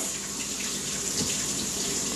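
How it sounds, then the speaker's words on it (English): Kitchen tap water runs steadily over canned legumes being rinsed, a continuous close, even hiss and splash with no pauses throughout. "So rinse them off until you don't see any more bubbles."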